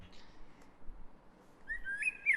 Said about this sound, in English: As you can see in this video that the birds are chirping, it is a type of sound, right?